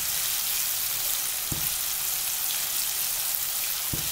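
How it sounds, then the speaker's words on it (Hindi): Cauliflower and peanuts frying in a pan give a constant, close crackling sizzle, with two brief knocks of a utensil against the pan. "देखिए अभी लगभग गोभी भून ये पक गया है"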